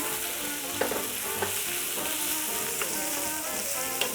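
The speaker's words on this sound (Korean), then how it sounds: "먼저 볶아둔 야채를 넣을게요. 잘 섞어주세요." Pre-fried vegetables for jajangmyeon are stir-fried in a pan, a continuous close sizzle with regular scraping and tossing sounds about every half second.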